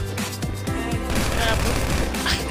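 Gunfire fills a GTA 5 shootout, with rapid overlapping shots and booms that form a dense, loud barrage while players talk over it.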